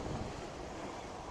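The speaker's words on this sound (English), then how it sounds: "Dang, waterfalls." Waterfalls at Knott's Berry Farm theme park give a constant broad rushing wash, fairly soft and unbroken, with no talk over it.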